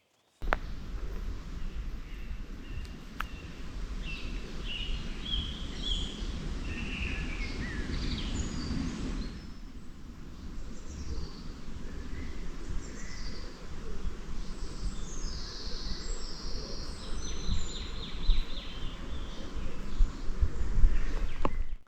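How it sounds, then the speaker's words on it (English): Birds singing in open woodland along the Ridgeway in Britain, several calls scattered throughout at moderate distance over a steady outdoor background. "And the birds are out. You can stop for a second and listen to them."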